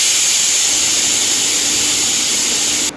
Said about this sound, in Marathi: कुकर लावून कुकरला 4-5 शिट्ट्या काढून घ्यायच्यात